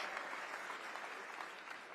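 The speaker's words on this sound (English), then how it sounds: "Biggest non-sequitur applause of the night." Film festival crowd claps in a sustained, even burst of applause, dense and moderately distant, continuing unbroken without any speech over it.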